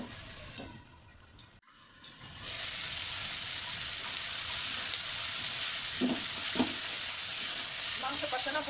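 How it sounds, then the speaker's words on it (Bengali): Chicken meat sautés in a pan: a quiet start gives way to a strong, steady sizzle with occasional stirring scrapes near the end. "মাংস কষানো হয়ে যাচ্ছে"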